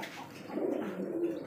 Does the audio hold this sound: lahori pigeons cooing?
yes